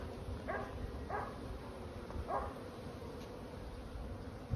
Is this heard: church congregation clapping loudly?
no